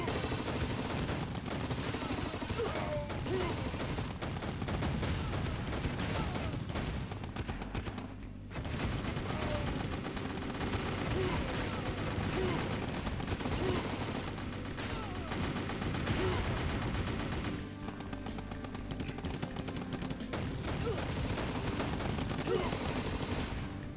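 Video game battle in Crisis where a tank and troops keep firing, a dense continuous barrage of gunshots and machine-gun fire with booming blasts, loud throughout and hardly easing.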